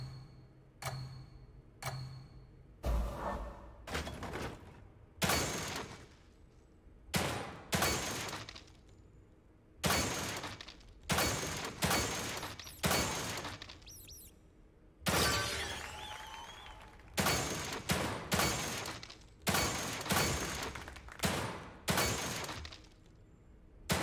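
Gunshots ring out at a shooting range in The Evil Within 2, sharp single cracks spaced irregularly and sometimes in quick pairs, each with a short decaying tail over a quiet game background.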